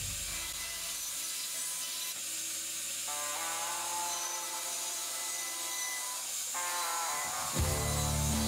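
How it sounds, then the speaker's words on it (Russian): A band saw cuts through plywood along marked lines, a continuous whining drone with a shifting, rising tone as the blade works the board, ending with a louder change near the end; no one speaks. "Отправляюсь на ленточную пилу и выпиливаю все,"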